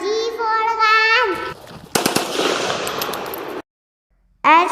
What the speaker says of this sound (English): G for gun. G for gun.